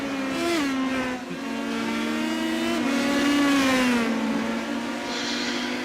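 Engine of a race car in the iRacing sim at Barber, a steady loud drone whose pitch climbs and dips through gear changes, with faint tire squeal and no voices.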